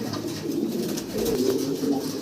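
Pigeons at a pigeon farm coo continuously and close by, a soft throaty warble that swells and rolls without pause over a faint background hum.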